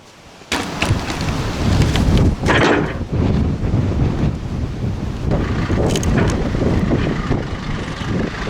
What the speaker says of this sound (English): Oh, I hate this wind.